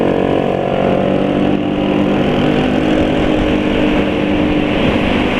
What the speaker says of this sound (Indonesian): Ini contoh Nmax modifikasi knalpot yang tenaganya nggak keluar ya.